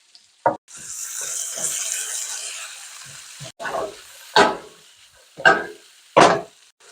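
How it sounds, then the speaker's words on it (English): Kielbasa hits a pan of slightly browned, sweated onions with caraway seeds, giving a steady broadband sizzle that swells into several loud, sharp crackling bursts as pieces drop in and are moved around. "Now that the onions have been sweat and are slightly browned, we're going to add in our kielbasa."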